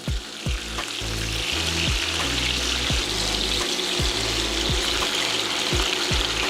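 Chicken pieces flipped in a hot frying pan sizzle loudly and steadily, a continuous hiss broken by several dull knocks and scrapes of turning, under a low humming backdrop.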